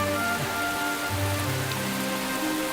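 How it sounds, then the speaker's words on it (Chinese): Steady rain falls on surfaces in a Chinese period-drama scene, making a soft, even hiss throughout with no voices. "下雨了，喂，下雨了，下雨了，下雨了"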